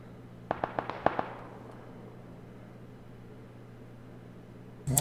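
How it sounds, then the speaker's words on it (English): Gunfire in PlayerUnknown's Battlegrounds: a quick burst of about six sharp shots, slightly distant, followed by a fading echo, then a steady low hum and a sudden loud noise at the end. "Oh, somebody's shooting at him."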